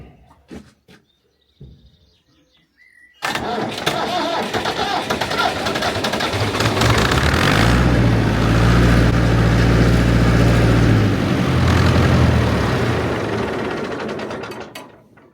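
An old Massey Ferguson 50 digger's engine turns over and catches after a few quiet clicks, then runs with a loud, rough mechanical clatter and low throb that swells and holds before easing slightly near the end.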